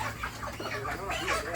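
Broiler chickens, 33 days old, cluck and chatter from baskets on a scale during harvest weighing, a busy low flock murmur close by and fairly quiet.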